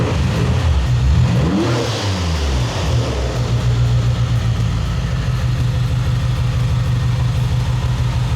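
A car engine being worked on in a garage revs sharply, its pitch sweeping up and back down, then settles into a steady, throbbing idle, loud and close throughout.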